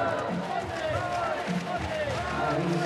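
Crowd murmur and scattered cheering at a women's beach volleyball semifinal in Hamburg, a steady babble of spectators heard from a distance under commentators talking.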